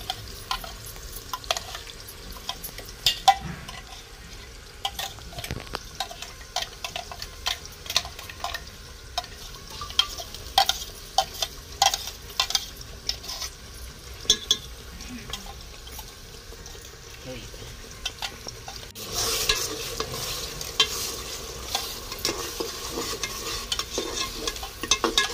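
Ground masala paste frying in oil in a pot over a village wood-fired stove while chicken is prepared, with scattered spatula scrapes and a soft sizzle that swells near the end, under intermittent talk.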